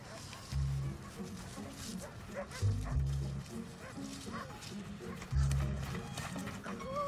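Dogs barking at a dog adoption event, several loud woofs in separate bursts with whimpering and yips between, over background chatter and voices.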